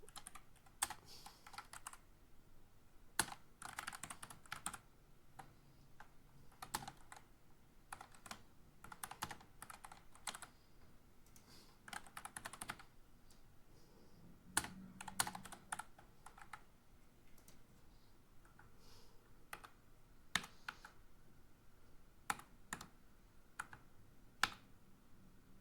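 Close, steady clatter of a computer keyboard with irregular bursts of key presses and a few sharper clicks, continuing alone for about half a minute at low volume while text is entered into a form.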